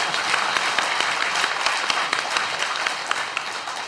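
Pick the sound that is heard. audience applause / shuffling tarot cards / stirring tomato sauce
audience applause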